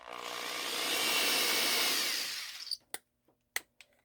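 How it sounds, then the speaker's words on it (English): A corded power drill runs in reverse with a loud, steady whine for about two and a half seconds, then winds down, followed by a few sharp clicks and knocks. "And in reverse, this drill, I think there's something a bit wonky with it, because if you'll notice, it sounds way different."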